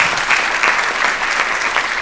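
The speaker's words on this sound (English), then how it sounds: "Just a nice round of applause for this panel." A conference audience claps steadily after a panel discussion, dense even applause filling the room at close range.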